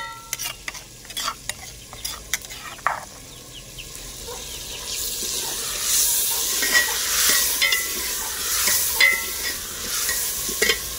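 Meat cooked with ground spices and tomato fries in a pot over a fire in a village kitchen, with scraping, clattering stirring strokes early on, then a louder, steady hiss of sizzling close by.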